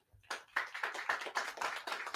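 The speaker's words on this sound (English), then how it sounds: "a really big round of applause for Adam Trujillo" A small audience claps at a Texas Arbor Day 2020 event, scattered individual hand claps building quickly into a light, uneven round that stays fairly close.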